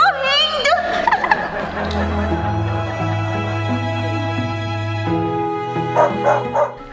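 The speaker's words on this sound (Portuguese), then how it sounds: "Eu vou colocar um barulho de cachorro latindo." Recorded dog barking played back: a run of yapping barks and whimpers at the start, then a long sustained tone, with a few short bursts near the end.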